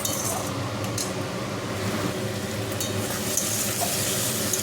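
Spice paste sizzles and fries steadily in a pan while being stirred for a vegetarian raw-banana kofta curry, a continuous close crackle with occasional light clinks of a utensil, no voices.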